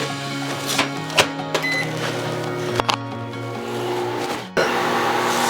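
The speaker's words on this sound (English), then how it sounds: "So I'm gonna warm my milk for about 30 to 40 seconds in the microwave" A microwave oven warming milk hums steadily, with a few clicks and knocks along the way and a sudden change in tone near the end as it switches state, all close and fairly loud with no talk.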